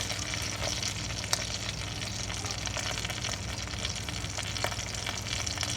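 Hot link sausage frying in a pan, a steady dense sizzle with scattered sharp pops and crackles, close and fairly loud with no talking.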